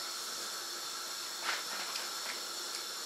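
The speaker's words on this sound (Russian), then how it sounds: "Пока тут закипает у меня." A pot of soup coming to a boil on a stove gives off a steady hiss of steam with faint bubbling pops, quiet and close, with no voices.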